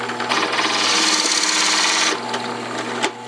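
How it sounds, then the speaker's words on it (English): A wooden pen blank is milled down toward its brass tube, giving a steady, close whirring and grinding for about two seconds that then eases to a lighter rasp with a small knock near the end. "So we're going to mill down a little at a time until we get to that"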